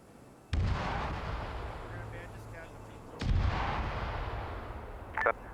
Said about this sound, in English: Mortar rounds on target.